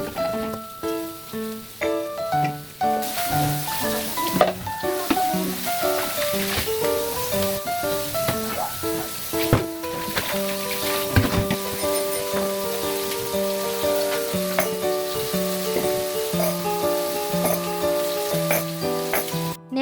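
Vegetables sauté in a hot pan with a steady, close sizzle that continues throughout, under a bed of background music.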